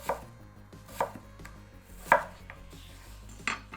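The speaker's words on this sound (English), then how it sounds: "Now we stack up the slices and cut them into even matchsticks." Four spaced knife strokes cut stacked slices into matchsticks on a cutting board, each a crisp thunk separated by short pauses, close and clear with a low hum in the background and no talking.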